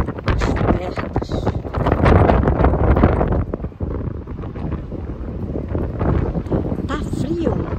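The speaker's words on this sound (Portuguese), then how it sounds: "Tá frio e ventando." Loud, gusty, cold wind buffets the microphone throughout in Jerusalem in the early afternoon, with rumbling bursts and a voice faintly under it.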